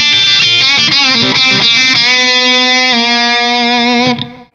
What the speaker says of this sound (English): I go to the bridge pickup, the treble pickup, I've got the tone all the way up.